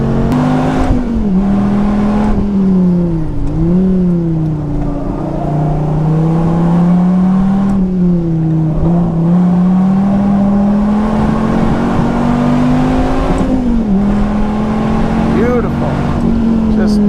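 Dodge Viper ACR, a production-based car, driven fast around a race track to warm its tires, its engine droning loudly and steadily with pitch rising and dipping through gear changes and corners, while someone talks over it.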